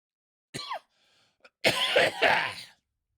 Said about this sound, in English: Still a little bit of that lingering cough from being sick a few weeks back.